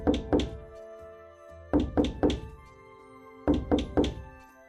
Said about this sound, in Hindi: सबसे पहले नीलेश हरीश के घर का दरवाजा खटखटाता है।